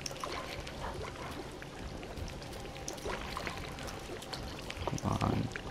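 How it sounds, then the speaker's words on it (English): Blood dripping from the ceiling in the video game Dying Light, a continuous wet trickling and pouring patter with scattered drips, growing slightly heavier near the end. "There's blood dripping from the ceiling too."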